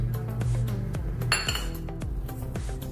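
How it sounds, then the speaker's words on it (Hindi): A spoon clinks repeatedly against a dish as a spoonful of ghee goes into semolina for rava laddu, with sharp bright taps and scrapes at an uneven pace and no talking. "अभी थोड़ा सा इसमें हम घी डालेंगे 1 चम्मच"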